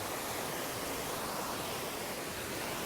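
Steady broadband ocean surf washing near the shore while someone wades out into the water, a constant hiss of waves with no voices.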